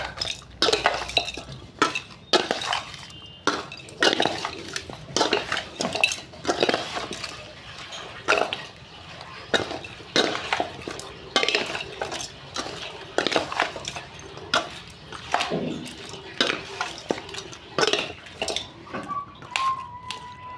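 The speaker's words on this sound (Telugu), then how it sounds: "ఇట్లా కలుపుకోవాలి కూరని శుభ్రంగా" A spoon scrapes and clinks against a pot as Andhra style chicken curry is stirred, with a steady run of repeated knocks and scrapes close by and no talk.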